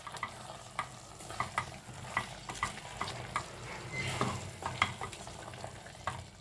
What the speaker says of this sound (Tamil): I've added little salt and again I'm stirring this.